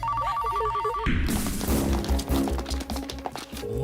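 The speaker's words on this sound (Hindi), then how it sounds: "फोन उठा, फोन उठा।" A telephone bell rings in quick trills for about a second in a tense film scene, then gets swallowed by loud dramatic music and commotion.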